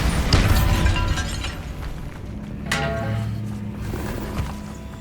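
A Bombarda blasting spell goes off inside a tomb in Hogwarts Legacy, a loud booming burst at the start followed by crumbling debris and a second sharp blast midway, with lingering rumble.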